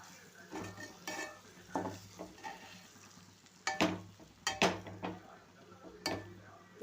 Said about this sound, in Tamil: அப்புறம் மிளகு பொடி, கரம் மசாலா, ஜீரகப்பொடி இதெல்லாம் சேர்த்துட்டு நல்லா கிண்டி விட்டுக்குருவோம்